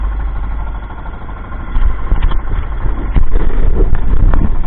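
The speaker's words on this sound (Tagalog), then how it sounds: "ngayon ang makina natin" A small boat's engine runs steadily and loudly up close, a continuous low rumbling drone that swells slightly in intensity partway through, with no talk over it.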